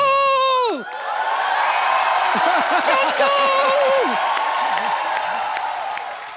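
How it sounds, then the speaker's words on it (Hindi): A television comedy show's studio audience bursts into loud, sustained applause and cheering with whoops, after a shouted name. Voices and shouts run through the crowd noise throughout. "जोरदार तालियां हो जाए एक बार"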